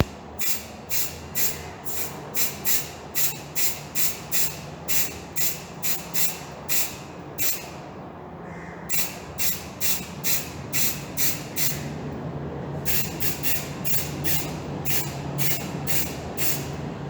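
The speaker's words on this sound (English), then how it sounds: "Okay, now we are going to spray paint the Porsche Boxster" Spray paint hisses onto a diecast Porsche Boxster model in short, rhythmic puffs, close and crisp, shifting to a longer continuous spray near the end.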